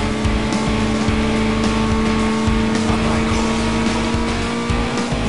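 A Cobalt SS race car in the video game Need for Speed: Most Wanted, its engine droning loud and steady at high speed on the main roads, with a faint hint of tire squeal.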